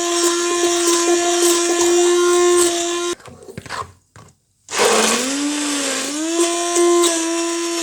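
A kitchen grinder purees tomato paste for homemade ketchup with a loud, high motor whine, stops briefly partway with some rattling, then spins back up and runs steadily.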